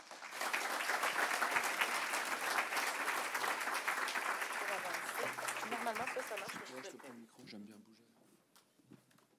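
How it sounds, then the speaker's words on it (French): Loud, dense audience applause welcomes a speaker at a conference on nature-based solutions, sustained for several seconds and then thinning out, with some talk emerging as it fades. "dans un tonnerre d'applaudissements, s'il vous plaît, accueillez notre conférencier"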